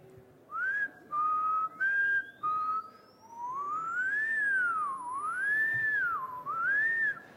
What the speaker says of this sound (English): do people want to whistle? And you'll see your whistles come out